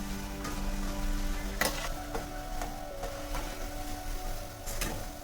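Chakli made from rice flour frying in hot oil, a steady dense sizzle that continues throughout, with a few sharp clicks and knocks over it and no talking.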